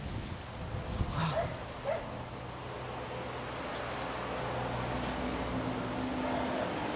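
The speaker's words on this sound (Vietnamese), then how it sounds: "chú chó này nãy giờ là cứ đi theo Vuông cứ giỡn hoài luôn" A dog barking while playing, giving a few short, sharp yips and barks early on against a steady outdoor background hum, with talk nearby.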